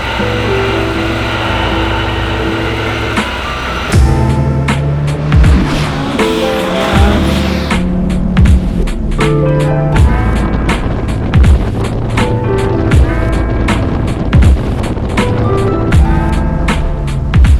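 A Honda S2000 sports car driven up close, its engine revving through rising and falling harmonic sweeps with throttle blips and gear changes, loud and continuous with no talking.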